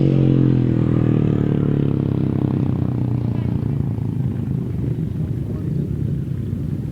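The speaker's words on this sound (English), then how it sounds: "You probably heard the revving, and the bike was going nowhere." A grasstrack racing motorcycle with its chain come off revs loudly and roars down into a fading rumble, heard under a commentator's voice.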